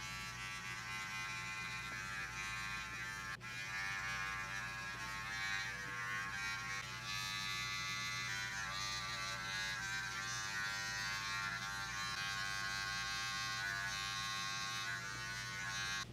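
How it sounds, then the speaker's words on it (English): A cordless hair detailer trimmer shapes and sharpens a hairline at a barber contest, giving a steady, close, continuous electric buzz that holds unbroken throughout with no talking. "I'm now going to go in there with my cordless detailer and sharpen up the lines and create a shape up on the side."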